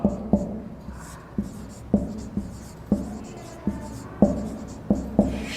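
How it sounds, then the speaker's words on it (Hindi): Chalk or marker strokes on a classroom board as a Hindi literature example is written out, a steady series of sharp taps and scratchy strokes at an even pace, close and fairly loud, with no voice over them. "लिखते हैं एक उदाहरण। उदाहरण लिखते हैं।"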